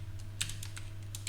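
Keys clatter in an irregular series of sharp clicks on a computer keyboard during a Python coding lesson, close and moderately loud over a steady low hum, with no talking.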